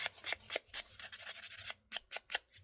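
A small handheld sander scuffs across a paper butterfly in quick, uneven rasping strokes, close and fairly quiet, with a brief pause before a few final passes.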